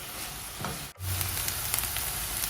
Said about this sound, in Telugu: చూడండి ఎంత బాగా ఫ్రై అవుతున్నాయో ఆనియన్ చూసారా